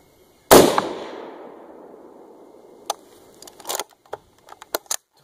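A single rifle shot fired with a 43-grain IMR 4064 powder load during load testing cracks loudly and close, its echo rolling away over a few seconds, followed by scattered small clicks and handling noises.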